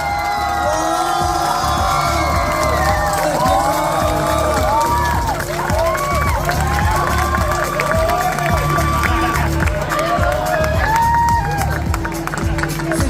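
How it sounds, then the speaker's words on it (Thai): Loud crowd at a Thailand Coffee Brewer League 2023 competition screaming, whooping and cheering continuously, a dense roar of shrieks over booming background music. "เอากรี๊ดกันให้สุดเสียงกรี๊ดกันเข้าไป"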